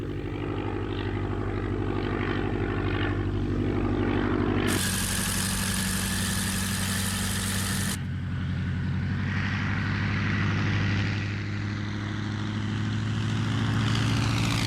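A Curtiss Jenny biplane trainer flies past with its propeller engine droning steadily and loudly, swelling into a brief louder roar midway before settling back to a sustained hum.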